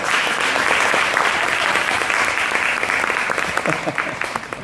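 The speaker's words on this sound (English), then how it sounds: "give yourself a round of applause" A conference audience applauds steadily, dense clapping that holds loud for several seconds, then starts to thin and fade near the end.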